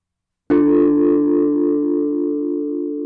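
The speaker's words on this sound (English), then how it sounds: "So some nice distortion, saturation there." One loud sustained synth note from UVI Glass Orchestra enters abruptly and holds, thick and gritty with drive distortion and saturation, fading only slightly over a few seconds.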